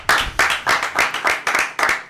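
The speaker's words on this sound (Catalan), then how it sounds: "fort aplaudiment per Bad Looney, sisplau" A studio audience claps for a guest on a Catalan TV show, the claps arriving as about six rhythmic, evenly spaced bursts that each swell and fade, loud and close.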